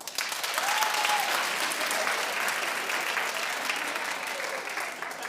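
An audience claps in a steady, dense wash that swells quickly and holds, with a faint voice briefly audible early on.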